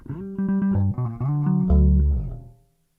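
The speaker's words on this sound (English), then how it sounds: "the bass guitar. And out of the box, it sounds like this." Bass guitar played straight out of the box with no amplifier: a short run of plucked notes, dry and close, each low tone clear with quick changes, ending on a held lower note that fades out.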